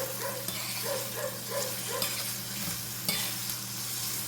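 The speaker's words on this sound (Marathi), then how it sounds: "तेलावर आपला कांदा आणि टोमॅटो चांगला परतून झालेला आहे" Onion and tomato sizzle steadily in hot oil while a spoon stirs them in a regular scraping rhythm, close and continuous with no talking.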